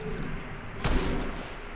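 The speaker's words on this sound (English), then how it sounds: "Shots." A single gunshot rings out in the Fortnite battle royale game, a sharp burst with a short rumbling tail over steady background game noise.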